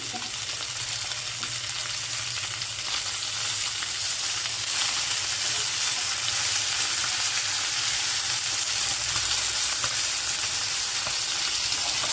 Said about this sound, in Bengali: মাছগুলোকে কড়া করে লাল লাল করে ভেজে নিচ্ছি।